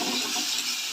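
Water pours steadily into cooking masala in a pan at home, a continuous close hiss and splash with no voices.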